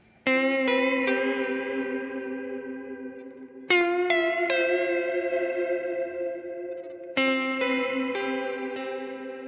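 Electric guitar played through a Trash Panda pedal with reverb and vibrato, three separate strummed chords ringing out with long wavering tails, each struck cleanly and left to decay alone.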